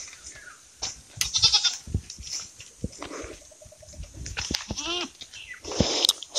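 Several goats bleating in a dry farmyard, with repeated wavering calls near and fairly loud, interspersed with shuffling and small knocks between them.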